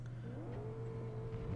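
A car engine hums and revs up while driving in the Fortnite video game, a steady mid-pitched drone with a rising tone, fairly close and moderately loud, with no talk.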